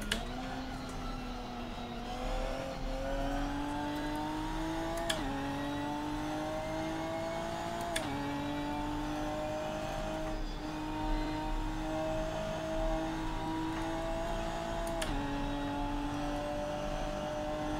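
A modded race car engine in Assetto Corsa driven hard on track, holding a steady high drone with rising pitch through each gear and sharp shift breaks every few seconds, loud and close with no talking.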